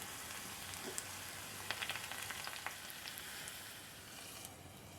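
Mustard seeds, fenugreek, sliced shallots and curry leaves sizzle in hot oil for a Kerala mackerel curry, a steady close frying hiss with scattered crackles and pops throughout, no voices.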